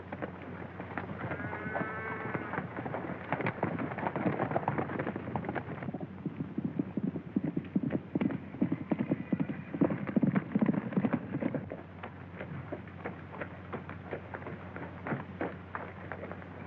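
Horse hooves clip-clop steadily on an Arizona trail as a rider urges a bucking, sunfishing horse along, the close rhythmic hoofbeats running under swelling background music.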